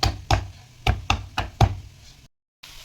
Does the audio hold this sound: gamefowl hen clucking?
no